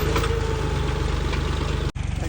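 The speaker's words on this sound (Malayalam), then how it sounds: "അങ്ങനെ നമ്മുടെ കൃഷിയിടത്തിലേക്കുള്ള ട്രാക്ടർ എത്തിയിട്ടുണ്ട്." A tractor's engine reaches a farm field prepared for watermelon planting, running loud and close with a steady low throbbing rumble throughout.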